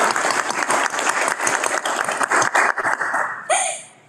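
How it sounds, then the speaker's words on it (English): An audience at a board of trustees meeting bursts into dense, steady applause with a few whoops and light laughter, loud and close, then quickly fades out over the last half second. "So can I get an applause for Julia for starting her new role?"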